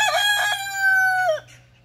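A rooster crows loudly and close by at feeding time on a small farm, a strained note held for over a second before breaking off, with faint clucking afterward.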